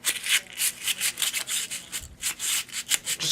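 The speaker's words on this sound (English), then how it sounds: "Make sure you sand those contacts." Corroded pin contacts on a Nintendo NES cartridge are sanded by hand in quick back-and-forth strokes, a close, steady rhythm of scratchy rasps that repeat about four times a second with no talking.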